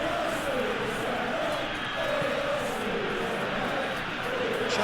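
Stadium crowd in PES 21 during a simulated Barcelona versus Arsenal Champions League match, a constant loud roar with swelling chants, carrying under a commentator's voice throughout.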